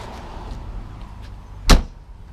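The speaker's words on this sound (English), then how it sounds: "And I'm going to close the door." The door of an off-grid trailer closes in a single sharp slam, loud and close, preceded by faint handling noise and quiet room hum.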